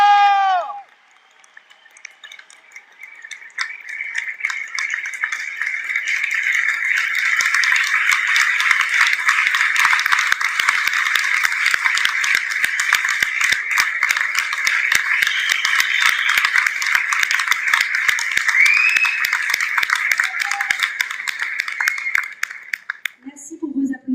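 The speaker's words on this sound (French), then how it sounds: "Merci pour vos applaudissements" Sustained audience applause fills a conference hall in Strasbourg, a dense, steady wash of many hands clapping that swells and holds for about twenty seconds before tapering off, with a brief voice at the start.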